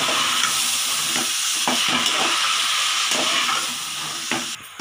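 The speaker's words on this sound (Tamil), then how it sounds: "காய்கறி ஆட் பண்ணி கொஞ்ச நேரம் இந்த எண்ணெயிலே வதக்கணும்" Vegetables sauté in oil in a pot for sambar, giving a loud, steady close sizzle and steamy hiss broken by rhythmic stirring scrapes, easing slightly near the end.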